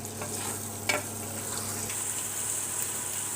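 Minced meat dry-frying in a pan for Delhi-style aloo keema, a steady close sizzle with occasional stirring scrapes, one louder clack near the start.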